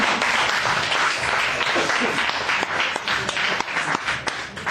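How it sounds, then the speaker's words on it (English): A live audience at a stage show gives a dense, sustained round of applause, many hands clapping together at fairly close range without a break. "Let's have a proper round of applause"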